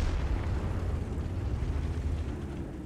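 An artillery shell blast in the tank battle game World of Tanks comes through as a deep, sustained rumbling boom that fills the low end and slowly fades over a few seconds.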